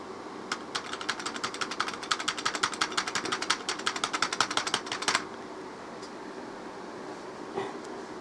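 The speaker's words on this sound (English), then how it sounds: "Hopefully my keyboard is still working." Rapid, even clicks of fingers typing on a computer keyboard run for about five seconds, close and fairly quiet over a low background hum, then stop.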